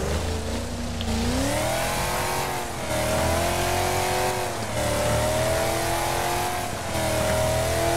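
A race car engine in the Wreckfest racing game revs hard and steadily for the whole stretch, its pitch rising and falling through repeated gear shifts. The tone is loud and continuous, and no one speaks over it.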